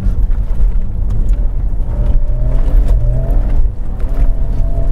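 A car engine runs hard at full throttle, a loud, close, continuous roar with rising whine that eases slightly toward the end, with no talking.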